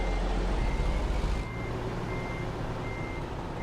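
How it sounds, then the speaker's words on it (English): Rhythmic reversing or parking-sensor beeps from a vehicle in a video game, a steady repeating tone over loud engine rumble, with no talk. "Parking sensors."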